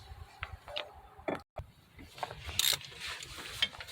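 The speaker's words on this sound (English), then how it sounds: "I'm gonna remove this bolt and just to check the gasket" A ratchet wrench clicks in quick bursts of sharp metallic ticks while removing a car exhaust bolt, pausing briefly before cranking again, close up with no talking.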